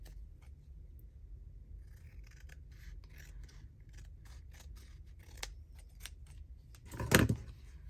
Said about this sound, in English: Trim that off.